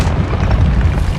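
A spell cast in a Harry Potter video game on PS5 lets out a loud, deep rumbling boom that rolls on steadily for about a second, with no talking over it.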